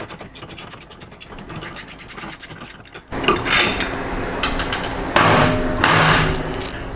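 Tools work bolts loose to take Advanblack Vengeance floorboards off a motorcycle bracket: a rapid run of ratchet clicks, then louder metallic scraping, clanks and knocks close by.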